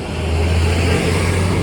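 Pickup trucks and cars pass on a road in Ecuador, a continuous close rumble of engines and tires with no talk.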